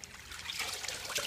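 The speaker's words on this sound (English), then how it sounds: "He takes a handful at a time, puts it into the sack, and then mixes it up well with the water." Ground kava root is worked by hand in a sack of water at a kava bar, giving a brief soft trickling and sloshing of liquid, close and steady.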